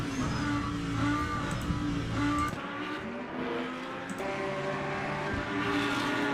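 A Lamborghini race car in the Le Mans Ultimate sim at Paul Ricard roars steadily at high revs, its engine tone shifting with gear changes and a brief dip midway, with other cars' engine noise layered beneath.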